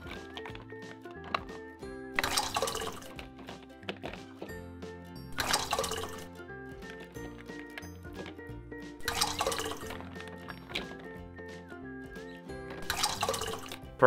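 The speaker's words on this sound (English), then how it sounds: "Let's use the orange ladle to scoop out some soup." An orange ladle scoops soup into a small purple bowl in a kitchen, giving four short splashy pours spaced a few seconds apart over steady background music.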